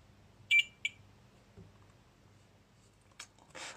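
A multimeter continuity tester gives two short electronic beeps, one after the other, while probing the ground connection of an EA-3050 high-voltage lab power supply. Faint clicks and quiet handling noise follow, with no talking.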